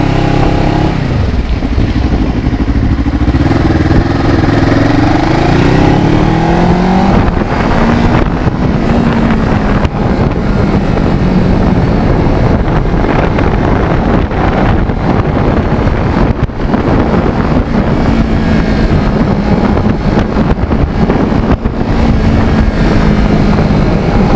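A restored 2009 Kawasaki Ninja 650R motorcycle rides on icy roads, its engine droning steadily throughout beneath heavy, continuous wind buffeting, with rising and falling engine tones as the rider shifts speed.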